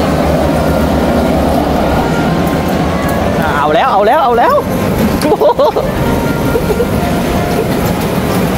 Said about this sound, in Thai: ถไฟมารถไฟมา